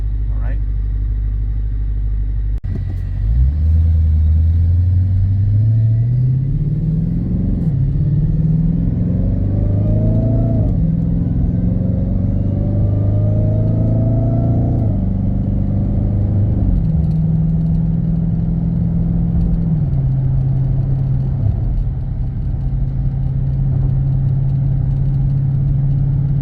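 A Dodge Hellcat accelerates from a stop, its engine note climbing steadily through several gear changes before settling into a steady cruise, heard loud and close from inside the cabin.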